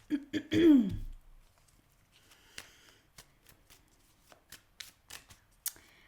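Tarot cards being shuffled and handled, a few rustling riffles at the start followed by quiet scattered taps and flicks of cards, with a throat clearing early on.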